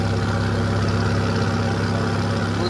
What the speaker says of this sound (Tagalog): eto naman po yung makina niya sa loob.